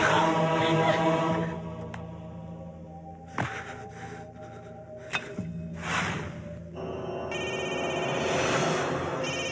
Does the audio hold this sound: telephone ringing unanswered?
yes